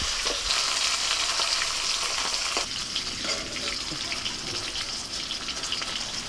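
Hilsa fish frying in oil in a pan gives a steady, loud sizzle that crackles throughout, with a few clinks and stirring sounds in between.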